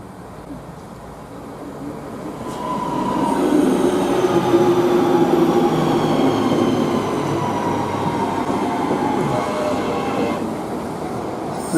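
A train rumbles past on a railway line near Guide Bridge in Manchester, growing louder after a few seconds and holding a steady heavy roll with faint wheel squeal, heard alone without talk.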